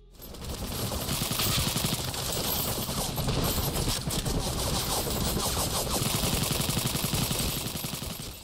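Dense, continuous automatic gunfire from Carnage Wars, a first-person shooter arena game. Rapid overlapping shots and bursts keep up a loud, steady barrage for the whole stretch.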